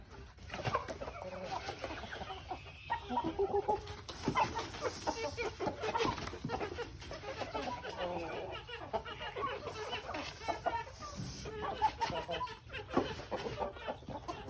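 Chickens cluck and murmur steadily around a feeder made from an old car tire, several birds close by in busy overlapping calls, with someone talking over them throughout.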